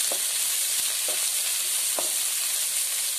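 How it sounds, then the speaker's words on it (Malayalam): Pork vindaloo ingredients sauté in a hot pan with a loud, steady sizzle, broken by a few soft scrapes of stirring. "നന്നായി ഒന്ന് വഴറ്റിയെടുക്കാം."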